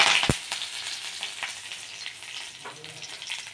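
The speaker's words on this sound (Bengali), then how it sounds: "গাছের ফ্রেশ কারি পাতাগুলো ছাড়িয়ে নিয়েছি, এগুলো এবার তেলে ছেড়ে দেবো" Fresh curry leaves drop into hot mustard oil and spit with a steady, crackling sizzle, opening on a sharp pop and fading into a continuous frying hiss.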